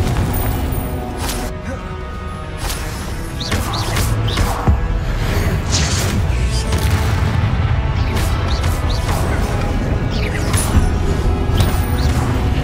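Confringo spell blasts in the video game Hogwarts Legacy, loud explosive crashes and booms packed into dense continuous battle noise, with spell whooshes throughout.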